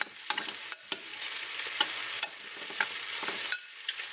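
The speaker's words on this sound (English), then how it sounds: "And then I'm just going to mix." Chicken seasoned with salt, pepper and vegetable oil is mixed in a pan, a close hissing sizzle broken by repeated scraping and stirring strokes.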